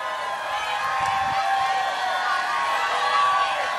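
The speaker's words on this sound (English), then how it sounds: "Crowd is going crazy as Miller centers the disc to Walrus." A crowd cheers at a high-level mixed ultimate frisbee match. The roar is steady and loud throughout, with a commentator talking over it.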